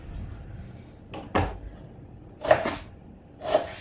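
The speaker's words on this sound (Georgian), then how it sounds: "ხახვი ნახევრად უჭრი ხოლმე" Knife cutting an onion in half, a few sharp separate cuts against a board, spaced about a second apart, close and moderately loud over a quiet background.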